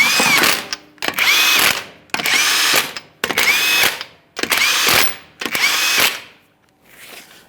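Six loud bursts from a power impact tool snugging lug nuts on a Ford F-150 wheel, each whirring, rattling run lasting about half a second to a second, separated by short pauses, with a fainter final burst.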